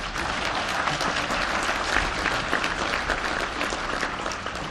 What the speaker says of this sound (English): Would you give a hand of applause, please?